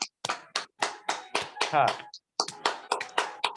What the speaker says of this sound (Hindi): अब ताली बजाओ, हाथ ढीले छोड़ के, हाथ ढीले छोड़ के ताली बजाओ।